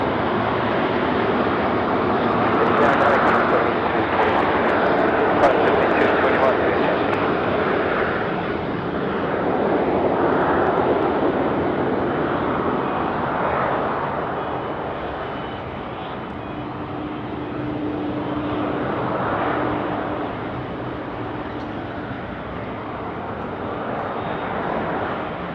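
A Virgin Australia jet from Hobart lands at night on runway 16 right at Sydney Airport. Its broad engine roar holds steady for the whole span, slowly swelling and easing, with no talking.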